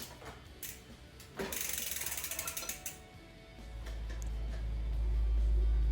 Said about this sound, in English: Then I begin by moving the drive crank off with an 8mm Allen wrench and a piece of pipe for leverage.